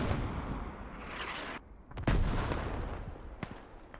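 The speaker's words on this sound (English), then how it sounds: "Dude, I could listen to these hell cannons all day." Heavy artillery rounds from hell cannons boom in a Squad match, one big deep blast with a long rumbling tail, then a sharper distant crack, all with no talk.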